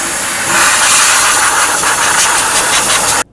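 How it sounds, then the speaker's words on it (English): Compressed air blasts dirt and debris off the driver side valve cover area of a 2007-2017 Ford Expedition engine, a loud steady hiss that holds for about three seconds before cutting off abruptly. "we want to make sure that we blow off any of the dirt or debris that's in this area"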